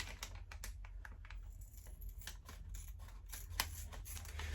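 Scissors cut open a foil LEGO Minifigures Series 13 packet, producing a scatter of small, quiet snips and crinkles over a low steady background hum, with no voices.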